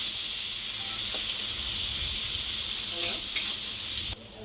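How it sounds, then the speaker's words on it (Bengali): Chopped onion fries in a pan until brown, giving a steady soft sizzle and hiss close by, with a few faint stirring scrapes and clinks. "পেঁয়াজ কুচি এটা আমি একটু ভাজবো, ভালোভাবেই ভাজবো যাতে পেঁয়াজের কালারটা ব্রাউন কালারে চলে আসে।"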